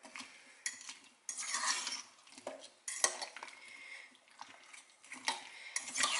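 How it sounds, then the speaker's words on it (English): A utensil scrapes and clinks against a pot or bowl while Irish beef stew ingredients are mixed together, in repeated uneven strokes, close and fairly clear, with no voices. "I'm gonna mix all this together."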